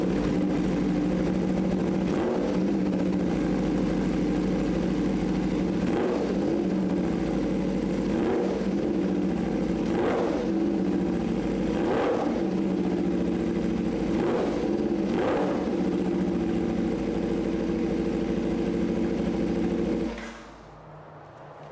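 A 2020 Aprilia RSV4 RR motorcycle engine with an SC-Project exhaust idles loudly up close, swelling with a series of short throttle blips every couple of seconds, then cutting off near the end.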